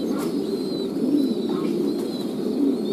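Pigeons are fed in the morning on a pigeon farm, their low cooing forming a steady murmur close by, with a few faint chirps above it.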